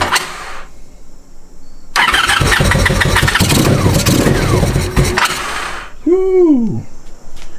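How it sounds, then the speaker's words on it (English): A 1984 Honda Sabre VF1100 V65 motorcycle, first started in 15 years, fires up with a loud, rough roar and runs unevenly for several seconds before dropping back; a brief sliding whistle-like sound follows. "That good exhaust blowing out."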